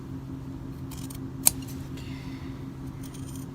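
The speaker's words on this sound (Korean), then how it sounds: "이렇게 가위로 이렇게." A single sharp snip of scissors cutting denim jeans fabric during a hem alteration, quiet and close against a low steady hum.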